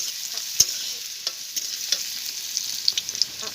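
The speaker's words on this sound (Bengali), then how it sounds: "রসুনটা একটু ভাজা ভাজা হয়ে গিয়েছে," Crushed garlic frying with onion in a pan, a soft steady sizzle punctuated by light, irregular spatula taps and scrapes, close and unaccompanied by speech.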